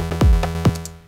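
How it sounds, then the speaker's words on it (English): Gritty techno bass notes from an analog synth in Ableton Live, sawtooth and square oscillators layered, two loud buzzy plucks with pitch drops, harmonically rich and alone. "If you want it to be super gritty, you can do something like sawtooth plus square"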